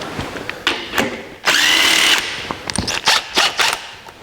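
A power tool whirs in short bursts as it removes lock nuts on a vehicle's engine, transmission and bell housing. One long loud spin sits among several quick rattling pulses, close up.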